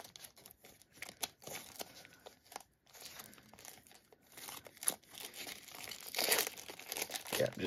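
A trading card booster pack of 1st Edition Labyrinth of Nightmare being torn and crumpled open, close and crinkly, with continuous foil rustling, scattered sharp tearing bursts and a louder rip near the end.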